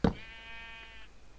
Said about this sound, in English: Where was that pink sheep at?